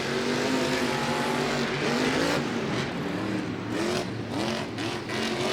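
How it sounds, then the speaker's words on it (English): A monster truck engine revs and holds throttle during a stadium race at Monster Jam in AT&T Stadium, Arlington, Texas: a loud, sustained motor drone with rising and falling pitch sweeps over crowd and arena noise. "It seems like Todd is just able to hold that throttle, like he's got that truck turned way down"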